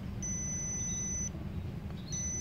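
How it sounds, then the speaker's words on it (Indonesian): A portable fish finder sounds a high, shrill electronic alarm tone in a long beep, then a pause, then another beep starting, steady and fairly loud over a low background hum. "alarmnya berbunyi menandakan bahwa memang ada sekumpulan ikan yang terdeteksi oleh sensor"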